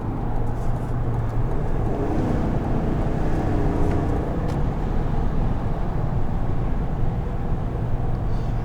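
A 2021 Chevrolet Tahoe LT engine drones steadily at close range while accelerating, a low rumbling roar that holds fairly constant throughout with no voices.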